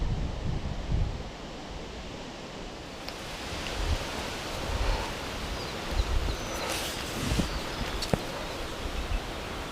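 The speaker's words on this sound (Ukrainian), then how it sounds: "Ще вітер трохи такий боковий противний." Steady broadband crosswind blowing and buffeting by a marsh, rising and falling in gusts with occasional rustles and knocks, no voices.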